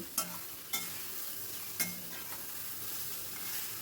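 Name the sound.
stirring soybean and egg frying in pan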